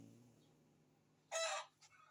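A chicken gives a short, loud squawking call close by after a quiet stretch of low background hum, then a brief fainter cluck.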